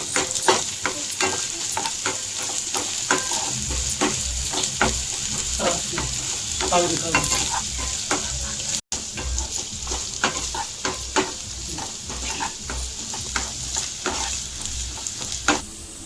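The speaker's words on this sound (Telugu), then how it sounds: "ఈ అల్లం వెల్లుల్లి పేస్ట్ పచ్చివాసన పోయేంత వరకు అయితే ఫ్రై చేసుకుందాం" Ginger garlic paste fries with onions in a pan, a steady close sizzle broken by the scrape and clatter of a spoon stirring throughout, with no voices.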